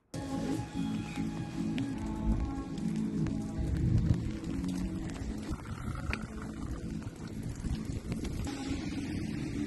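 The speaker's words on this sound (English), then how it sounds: "On a rainy day like this," Rain falling on a grey housing estate in Warrington, a steady broadband wash with wind buffeting the microphone and traffic-like rumble underneath, constant throughout without speech.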